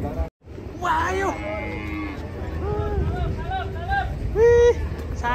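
Sacrificial cattle for Qurban moo several times, some long and low, amid crowd chatter and people talking in a busy, noisy outdoor setting.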